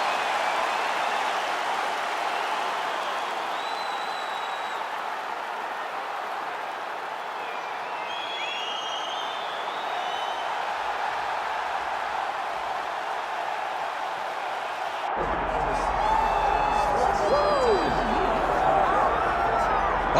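Broad, steady arena crowd roar from a capacity audience at a UFC 5 video game fight night, sustained throughout, swelling louder in the final few seconds.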